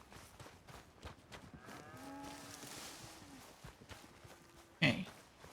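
Cows moo in Red Dead Redemption 2, a long low call with a rising tail heard faintly at a distance over a soft game ambience, with a few hoof clops and a sharp bump near the end.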